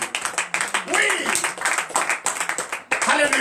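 Congregation clapping during a morning prayer service in Comè, Benin, a fairly steady rhythmic patter of many hands heard close, under and between a loud speaking voice.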